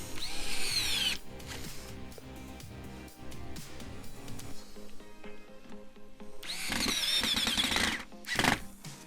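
A power drill whines in close bursts, spinning up and running steadily, with a gap of quieter mechanical sounds between.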